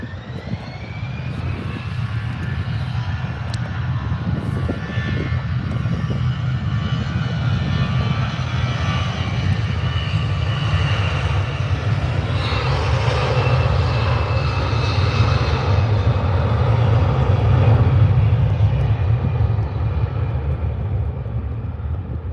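Airbus A320 jet engines at Birmingham Airport spool up to takeoff power, a loud, sustained roar that swells and builds further toward the end as the aircraft begins its roll, heard from a distance without speech.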